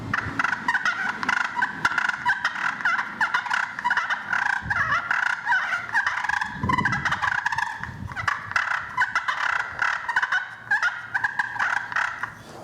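Continuous rapid clucking and yelping from a vintage friction turkey call worked with two strikers, scratchy and busy, with a brief low rumble partway through.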